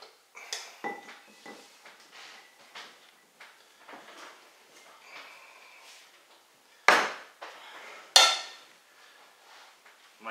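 Kasha varnishkes of buckwheat groats and bowtie pasta being served onto a plate: soft scoops and scrapes of a utensil, followed by two louder clinks of dishware against the counter.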